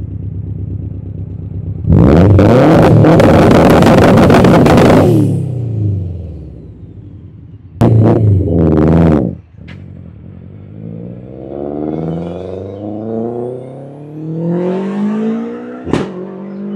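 Subaru Impreza with a 600+ hp engine, running a flame map, revs loudly through its exhaust in a long sustained burst, then a short sharp blip with crackle, settling to a rumbling idle with pops, heard close up outdoors.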